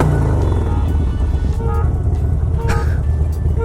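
Motorcycle fitted with a FAB 28 high-performance exhaust, a loud, deep, rumbling idle with throbbing low-end pulses and a few sharper blips, close and steady throughout with no talk.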